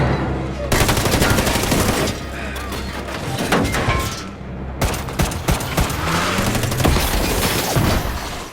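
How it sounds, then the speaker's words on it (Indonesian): Dense bursts of gunfire from an action film about secret agents battling a crime syndicate and mafia: loud, rapid shots and machine-gun fusillades crack continuously over several seconds, with heavy impacts and a brief lull midway. "manajer Joe harus terkena timah panas lagi di bahunya"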